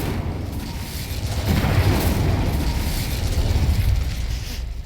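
A fire spell cast in the Hogwarts Legacy video game bursts into a loud, sustained roaring whoosh with rumbling low booms, swelling after the first second and holding steady for several seconds with no voices over it.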